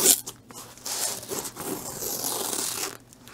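A small knife slices and tears open the plastic packaging of a diamond painting kit, producing close scratchy ripping and crinkling sounds in uneven strokes.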